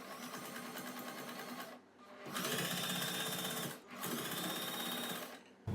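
Sewing machine stitching the fabric of a net neck kurti, its rapid needle chatter running loud and close, then pausing twice briefly before resuming at a steady pace.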